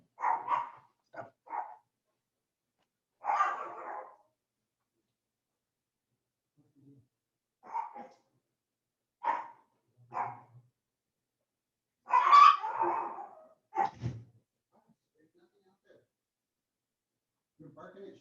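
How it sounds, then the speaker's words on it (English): A dog barks in short bursts, sometimes two or three in quick succession, at moderate distance indoors, scolded for barking at shadows while a person speaks between the barks. "Stop with the barking at the shadows."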